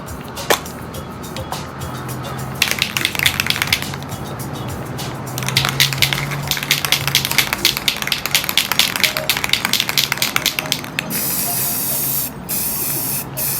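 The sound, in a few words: spray painting with Rust-Oleum navy gloss spray paint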